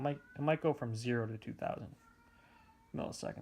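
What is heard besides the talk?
cat yowling outside the door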